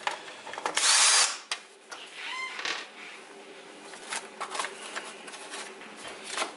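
A power drill undoes screws on a Tristar vacuum during repair, with a loud whirring burst near the start, then shorter buzzes, ratcheting clicks and handling noises close by.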